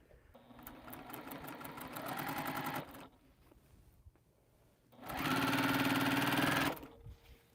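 Sewing machine stitching a diagonal line across a quilt, two loud, steady runs of fast needle whirring separated by a short pause, close and alone.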